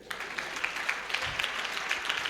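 A church congregation applauds in steady, sustained clapping that fills the room at moderate loudness, with no speech over it.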